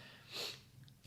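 A single person sneezes faintly during a podcast conversation, a short soft burst of breathy air in an otherwise quiet room.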